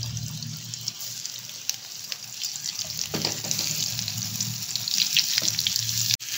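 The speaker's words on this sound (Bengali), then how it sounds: "নুন মাখিয়ে এই যে এই তেলের মধ্যে আমি আস্তে আস্তে এগুলো ভাজতে দিয়ে দেবো" Salted pieces of pointed gourd sizzle in hot oil, a steady, close frying hiss that runs the whole time with no one talking.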